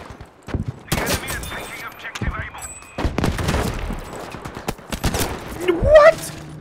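Gunfire in Battlefield 5: sharp, close bursts of rifle and automatic fire in uneven clusters, with a voice speaking in between.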